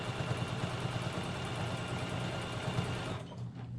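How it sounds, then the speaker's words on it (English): A sewing machine stitches through a low pile minky quilt with a steady, close mechanical whir and rapid needle chatter that stops near the end. "So just gonna sew like normal."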